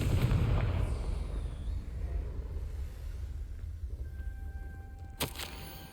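Confringo fire blast spell in Hogwarts Legacy, a loud booming explosion at the start that rumbles and fades over several seconds, then a sharp crack near the end with a ringing tone after it.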